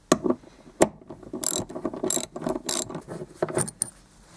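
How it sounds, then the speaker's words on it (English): A ratchet wrench turns out a T50 Torx bolt at the base of a Ford Focus seat belt, giving several close, crisp bursts of rapid clicking separated by short pauses, with no talking. "Remove this T50 Torx bolt at the base."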